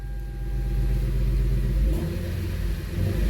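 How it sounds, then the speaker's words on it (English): A Lexus SC430's 3UZ-FE V8 with a custom exhaust, muffler deleted and resonator swapped, rumbles deeply and steadily at idle just after startup, heard from inside the car. "All right, here's the first startup inside the car."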